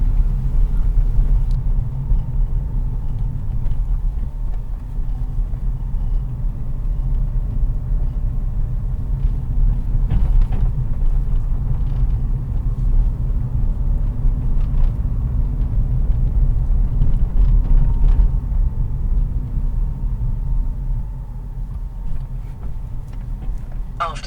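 A car on a mock driving test in Hither Green moves smoothly and steadily, a continuous low engine and road rumble with little change through the drive, faint cabin noises above it.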